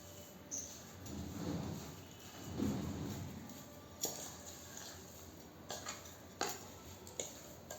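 A utensil mixing food in a pan while cooking with garlic and cauliflower, heard as quiet scraping and stirring with a few sharp metallic taps and clicks against the pan, close and faint.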